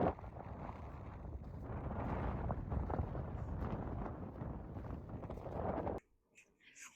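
Strong gusty wind buffets the microphone on Black Rock Sands beach in Wales, a loud roaring rumble for about six seconds before cutting abruptly to near quiet with faint distant sounds.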